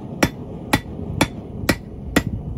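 Five evenly spaced, ringing hammer blows flatten hot forged steel being shaped into a swing-arm pan holder for a campfire; sharp, close metallic strikes roughly every half second with no talk.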